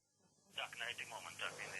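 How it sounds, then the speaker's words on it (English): A telephone rings inside a home in Belarus, a bright repeating electronic tone starting abruptly after a moment of near silence and continuing in steady bursts, close and fairly clear. "The phone keeps ringing"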